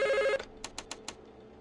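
A telephone rings in the horror game Five Nights at the Krusty Krab, giving four short, evenly spaced bright rings that follow a loud sustained tone cutting off at the start, with no talking.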